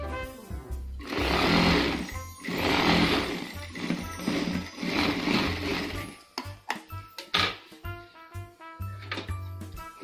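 A sewing machine runs in several bursts, stitching a pocket seam on a night gown. Each burst is a loud, close whirring hum, separated by brief pauses and followed by clicks and handling. A voice talks intermittently.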